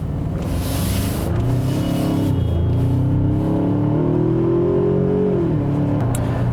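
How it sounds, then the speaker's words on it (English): A 2019 Ford Ranger XLT engine accelerates steadily with piped-in induction noise, its drone rising in pitch over several seconds then dropping as it shifts, loud and continuous with no talk. "It's a relatively nice sounding engine as well. You can hear Ford is kind of piping in a little bit of induction noise to this vehicle."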